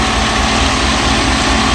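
An engine runs steadily right after its starter was reinstalled, a loud close rumbling idle with an even rhythmic pulse and no voices.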